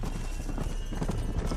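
Steady clip-clop of horse hooves trotting in Red Dead Redemption, loud and continuous, with a game-like ambient bed underneath and no talking.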